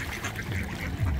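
Ducks at a feeding spot let out a couple of short nasal quacks over a busy, noisy background.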